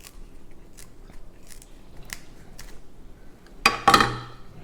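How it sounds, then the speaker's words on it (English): A few sharp snips and crunches of scissors cutting through a hard crab shell, sparse at first, then two loud close cuts near the end. "These scissors come in handy though."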